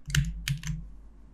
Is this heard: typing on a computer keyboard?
yes